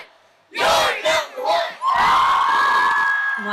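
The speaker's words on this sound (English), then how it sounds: "This cheer's for you." A group of voices shouts and cheers for high school sports fans, opening with several bursts of yelling, then rising into a sustained loud whoop of cheering that carries to the end.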